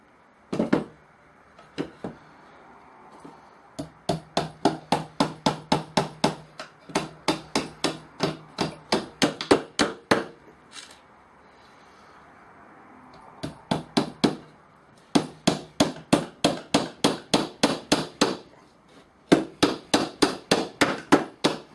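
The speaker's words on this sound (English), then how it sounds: "So we're going to hammer in our nails" Nails hammered by hand to fix the flywheel of a wooden pump drill, sharp close strikes in rapid bursts of a dozen or so blows separated by short pauses, with no talking.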